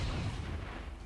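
A sniper rifle deadeye shot in XCOM 2 lands as a deep, booming blast with a long rumbling tail, loud and close in the game mix.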